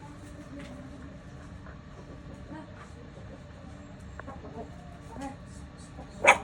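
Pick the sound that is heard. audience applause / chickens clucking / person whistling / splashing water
chickens clucking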